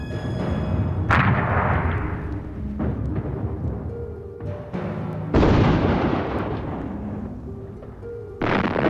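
French artillery firing at Verdun: heavy booming blasts land in repeated bursts, with a loud, sharp detonation near the middle and another toward the end, each followed by a rumbling decay, and no voices.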